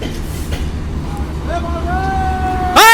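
Train at Parbatipur railway junction in Bangladesh, with a steady low rumble of rolling stock and a rising whistle-like tonal squeal near the end, over busy platform chatter and crowd babble.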